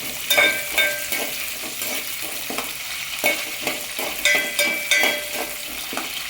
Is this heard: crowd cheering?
no